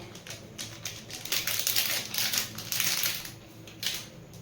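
Gram flour being dry-mixed with sugar and chaat masala in a bowl, a close, steady run of scraping and rustling strokes that swells and fades, with no talk.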